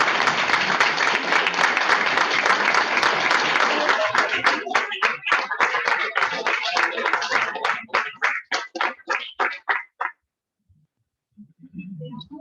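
Audience applause for club members at a Rotary Club meeting: a full, steady burst of clapping that thins into a few scattered claps and stops, followed by a short quiet pause.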